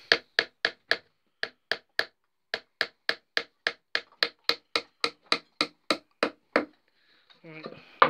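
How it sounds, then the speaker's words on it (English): A hammer taps tacks into a wooden ferret box, about twenty sharp, evenly spaced close knocks in a steady rhythm, followed by a brief scuffing rub at the end. "Right, just tacking it together now."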